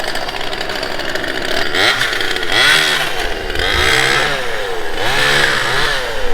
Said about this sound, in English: I've never taken a walk without a weed whacker, a tree trimmer, a lawnmower, or a leaf blower.